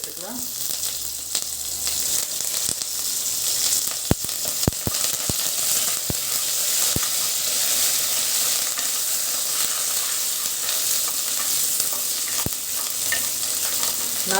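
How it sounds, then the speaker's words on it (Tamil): Curry leaves and dried red chillies fry in hot oil, giving a loud, steady sizzle broken by sharp pops and the scrape of stirring. "இப்போ கொஞ்சமாக கருவேப்பிலை கொட்டி சேர்த்துக்கலாம்."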